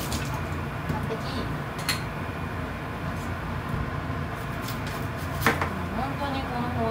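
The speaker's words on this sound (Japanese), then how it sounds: "本当にこの包丁よく切れるから" Steady knife chopping of carrots and potatoes on a cutting board, a continuous run of quick dull taps with a few sharper knocks, close by against faint background noise.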